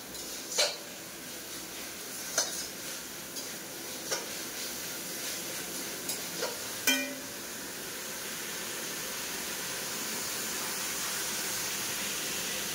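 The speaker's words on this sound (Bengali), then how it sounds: "টমেটোটা তেলের সঙ্গে ভেজে নিলাম মশলার সঙ্গে" Tomato frying in oil with spices in a pan, a steady soft sizzle with a few sharp clinks of a utensil in the first seven seconds, then the sizzle continues alone.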